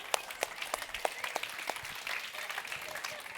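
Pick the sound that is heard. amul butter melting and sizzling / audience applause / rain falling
audience applause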